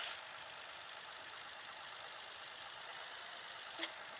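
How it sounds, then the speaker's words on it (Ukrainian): Tractor engine idling in the video game Farming Simulator 18, a steady, even hum holding at one level throughout with a brief click near the end. "Так, все, ми ставимо трактора."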